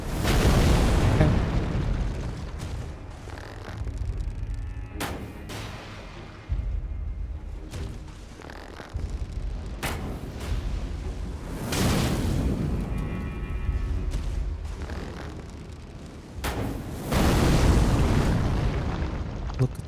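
Fireball explosions in the Elden Ring video game, a run of loud booming blasts and bursts, close and heavy, repeating at uneven intervals with rumbling game noise between them.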